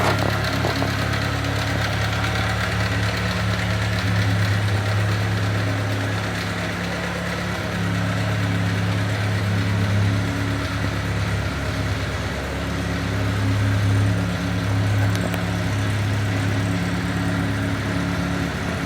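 The original engine of a 1948 Crosley CC Sedan with a 6-volt system runs steadily nearby, a low, even idle with a faint knock and vibration lasting throughout.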